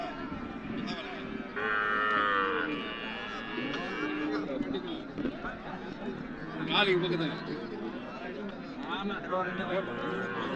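HF and Sindhi cattle and calves low and moo at a busy weekly cattle market in Namakkal, several drawn-out calls rising over a crowd's chatter and nearby talking voices.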